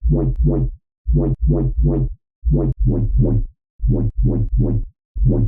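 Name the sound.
electronic bass synth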